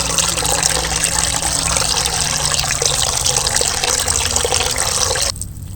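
Water running steadily from a tap while flour dough is washed by hand, a continuous close splashing rush that cuts off abruptly near the end.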